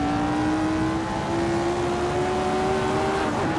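The Lotus 49 race car in Assetto Corsa drones at steady high revs through a corner over curbs, its engine tone slowly rising, loud and continuous with no voices.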